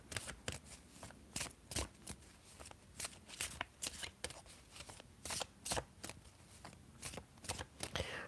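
A deck of tarot cards being shuffled by hand, close and quiet, with a quick run of crisp riffling bursts in an uneven rhythm and no voices.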